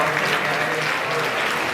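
Applause from a youth audience of about 200 at a church youth winter retreat, a steady dense clapping wash filling the room, loud and continuous throughout without a break.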